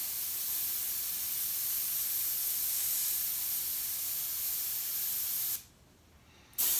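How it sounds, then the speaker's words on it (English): Steady airbrush gun spraying paint over a wider area, a continuous close hiss that cuts off briefly near the end and then resumes. "I can't even believe that I'm doing this with this airbrush gun"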